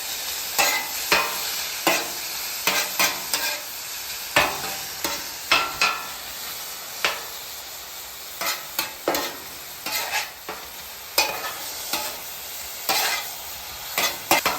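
Philly cheesesteak meat sizzles on a Blackstone griddle set to low, with a steady broadband hiss broken by frequent sharp scraping and chopping clicks of a spatula at an uneven rhythm, close and fairly loud, with no talking.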